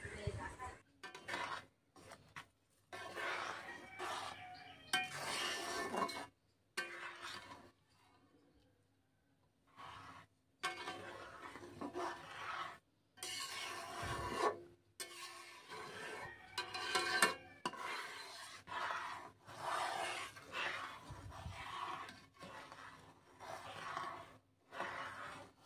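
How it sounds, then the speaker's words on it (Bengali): Sugar being stirred into milk in a pot for chirer payesh, a scraping, rubbing spoon sound in irregular bursts with short pauses, close and fairly quiet. "এক বাটি চিনি দিয়ে নেব দুধটার মধ্যে, দিয়ে ভালো করে নেড়ে চেড়ে নেব যাতে চিনিটা গলে যায়"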